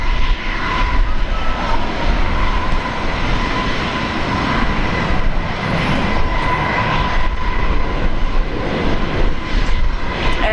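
A Jetstar airliner landing on runway 01 right at Brisbane Airport, a loud, steady broadband engine roar and rush of air that fills the whole stretch without letting up.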